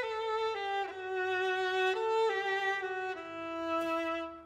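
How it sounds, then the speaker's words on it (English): A violin plays a sustained, bowed melody of several long notes with rich harmonics, clear and alone at moderate volume, set in a children's cartoon about musical instruments. "Violins sound like this."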